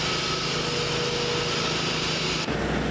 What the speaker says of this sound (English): with a hand or walk-behind power saw, cutting 1/2 inch deep or less to avoid cutting the reinforcing steel